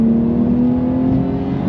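A manual Porsche 911 (992) Carrera 2 GTS accelerates, its engine a steady loud drone that holds near and even from start to finish.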